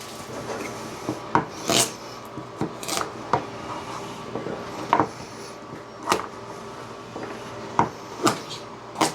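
A knife chops carrots on a cutting board for a crock pot roast, sharp woody knocks coming in an irregular series of about a dozen strikes, close and moderately loud, with no talking.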